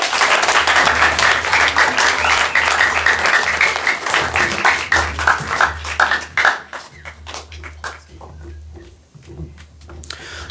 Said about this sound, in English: Can I have a huge round of applause for both teams again?